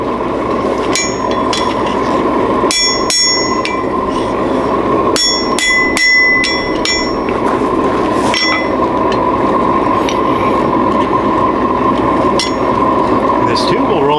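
Repeated metallic hammer strikes on hot steel while roughing out a chisel ring out in irregular bursts over a steady roaring hum, sharp clinks standing out close and loud.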